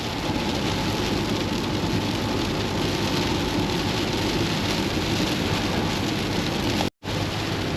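Heavy rain pours down during a drive in Houston, Texas, a dense, constant hiss of drops hitting the road and vehicle, with a low rumble beneath and a brief dropout near the end.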